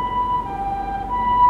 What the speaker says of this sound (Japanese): また来た救急車